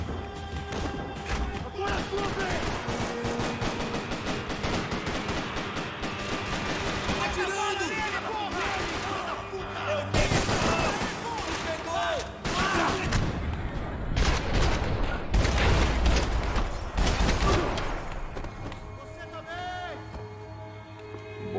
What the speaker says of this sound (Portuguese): A arma descarrega na hora errada